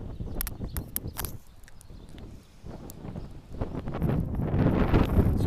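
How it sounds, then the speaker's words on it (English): A breezy wind blows on a coastal cycling climb near Port Erin, rumbling and buffeting the microphone in uneven gusts that build toward the end, with faint scattered knocks and rustles. "Down at Port Erin, a little bit breezy."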